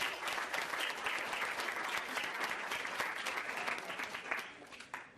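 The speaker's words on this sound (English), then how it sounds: "Nice round of applause for them." An audience at a high school fall sports banquet for volleyball, cross country and girls golf claps in a steady round of applause, dense and indoors, fading slightly toward the end.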